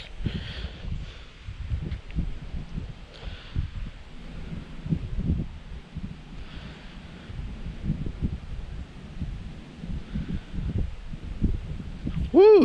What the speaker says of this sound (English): wind, you're like blowing all kind of junk in my eye